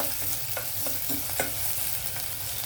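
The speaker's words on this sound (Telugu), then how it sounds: "కొంచెం ఉల్లిపాయలు వేగనిద్దాము." Onions sizzling and frying in a pan while a spoon stirs them, with a steady hiss and soft scraping strokes, close, for a South Indian drumstick, brinjal and raw banana egg curry, with no talking.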